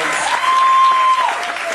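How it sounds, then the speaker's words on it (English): An audience applauds at a drag show event in Santa Fe, a loud, dense burst of clapping with a sustained whistle or cheer riding over it. "give him a round of applause"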